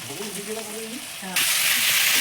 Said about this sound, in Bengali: চিকেন দিয়ে দেওয়া হয়েছে, চিকেন কষানো চলছে।